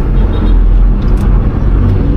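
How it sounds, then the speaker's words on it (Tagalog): A small, compact Hyundai Eon car drives along with a loud, steady engine and road rumble heard from inside, continuous with no break. "iti-drive natin itong Hyundai Ion na napakaliit at napaka-cute na kotse"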